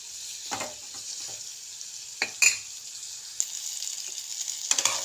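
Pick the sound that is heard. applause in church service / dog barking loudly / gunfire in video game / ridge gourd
ridge gourd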